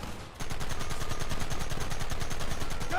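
Gunfire in Red Dead Redemption bursts in after a brief lull and rolls on as a dense, rapid, continuous volley of shots, loud and steady throughout.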